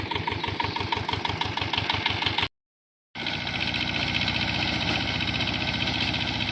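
Homemade soil tilling machine engine idling close by with a rapid regular chug, cut by a brief silent gap before the engine returns, running rougher and denser.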